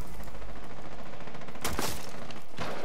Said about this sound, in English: They're shooting from the outside.